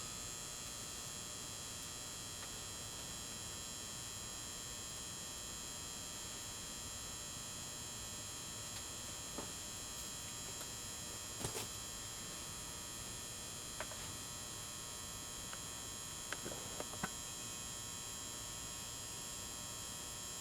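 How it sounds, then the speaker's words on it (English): Faint, steady electrical hum from the ballast of a warehouse high bay lamp switched on in a bedroom, holding evenly throughout with a few tiny clicks and ticks near the end. "It has that characteristic hum of the ballast, but it's not loud"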